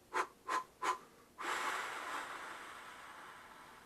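Three short forceful exhalations in a steady rhythm, then one long sustained blow of breath that slowly fades, close and clear with no talking, during a diaphragm breathing exercise.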